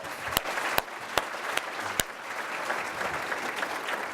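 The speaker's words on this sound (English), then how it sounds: "Let's give them another round of applause." An audience at a 2018 State of the City address applauds the city council: a steady wash of clapping, with a few sharp, distinct claps standing out near the start.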